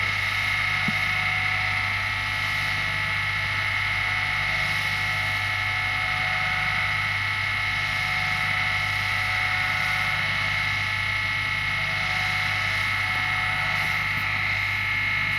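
A rotating machine spinning at 5000 RPM during a balancing test gives off a loud, steady drone with a sustained tonal hum that holds level throughout.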